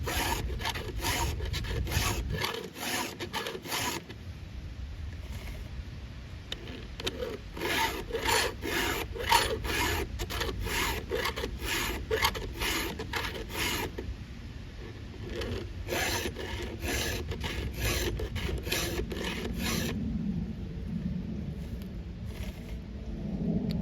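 A round file sharpens the chain teeth of a Stihl 500i chainsaw, making rapid rhythmic rasping strokes in close, repeated bursts with short pauses between sets of teeth.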